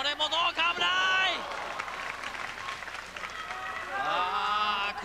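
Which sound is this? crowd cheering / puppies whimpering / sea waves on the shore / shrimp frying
crowd cheering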